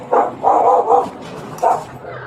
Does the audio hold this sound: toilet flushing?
no